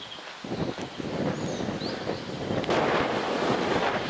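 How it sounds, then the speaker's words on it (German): Gusty wind buffets an outdoor microphone in a French town near a church, a steady broadband roar that swells louder in the second half with no speech. "So, sehr windig."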